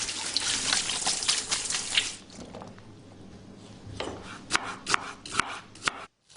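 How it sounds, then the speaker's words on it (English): Knife chopping freshly pulled, rinsed garden shallots on a board: a rapid run of close, crisp cuts at first, then a quieter pause followed by a few separate louder chops, with faint wet sounds and no talk. "Chop up the shallots and try not to cry"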